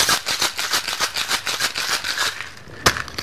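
Cocktail shaker filled with ice, amaretto, Kahlua coffee liqueur and fresh cream shaken hard in a fast rhythmic rattle, loud and close, ending with a final sharp knock.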